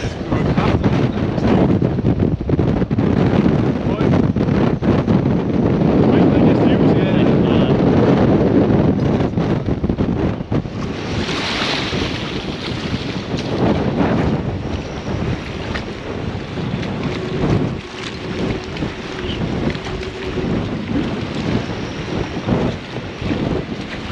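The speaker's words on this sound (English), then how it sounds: "rattling around, and some boats are just moving pretty badly." Storm-surge wind roars across a harbour in Aabenraa, Denmark, buffeting the microphone as moored boats rattle and knock. The noise is loud, continuous and gusting, with voices faintly underneath.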